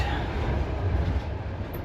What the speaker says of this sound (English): finally caught the train in the nick of time.